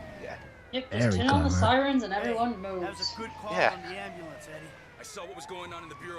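An ambulance siren wails in Grand Theft Auto V, its rising and falling tone running under people talking over one another throughout.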